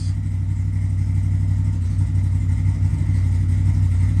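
A CFMOTO engine runs at a steady idle, its low throbbing hum close and continuous with no start-up surge and no voices.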